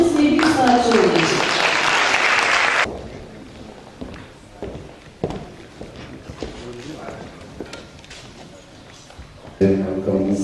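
An audience at the 10th poetry festival claps loudly for about three seconds. The applause then cuts off into quieter room noise with scattered thumps and footsteps, and a voice begins speaking at the end.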